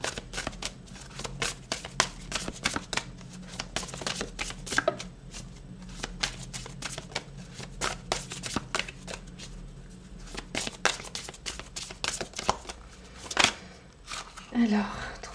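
Tarot cards are shuffled by hand during a reading, a dense run of crisp rapid riffling flutters and taps close to the microphone, with someone speaking softly in between.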